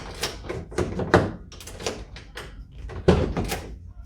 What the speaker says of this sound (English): I'm just going to work the door now, make sure I didn't do anything stupid.